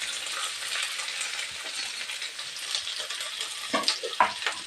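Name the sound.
capsicum and carrot frying and being stirred in pan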